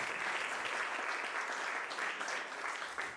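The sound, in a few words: audience applause at anniversary celebration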